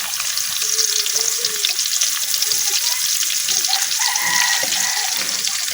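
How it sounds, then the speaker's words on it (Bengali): Chopped onions sizzle in hot oil in a kadai, a steady bright crackle and hiss holding throughout without a break. "এখন আমি এই তেলের মধ্যে আবার দিয়ে দিতেছি কাটে রাখা পেঁয়াজ।"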